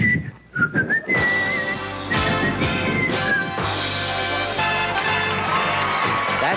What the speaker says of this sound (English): Could you whistle the flight of the bumblebee for me while I'm waiting?